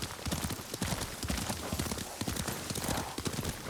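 Horse hooves clop in steady, rapid rhythm as a rider travels on horseback in the video game Ghost of Tsushima, close and loud throughout.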